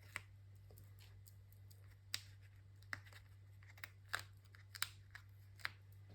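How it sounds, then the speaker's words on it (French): Adhesive backing being peeled off magnets for a scrapbook album, heard as several sharp, scattered crinkly peeling and crackling bursts, close and fairly quiet over a steady low hum. "Je vais enlever l'adhésif de mes aimants."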